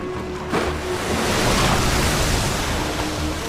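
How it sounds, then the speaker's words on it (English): Large ocean wave surges up, stirred by a pod of orcas swimming in sync beside sea ice, a loud broad rush of water and wind that swells after a brief quieter start and roars steadily with no voices. "The next second, a massive wave was unleashed."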